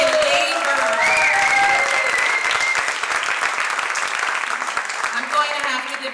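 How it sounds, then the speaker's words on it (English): Sustained applause from a gala audience at an annual performance event, loud and steady for several seconds before thinning slightly, with a voice speaking over it. "May we have another round of applause"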